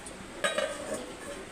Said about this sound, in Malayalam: കറി മൂടി വെക്കാൻ പോണേ കേട്ടോ.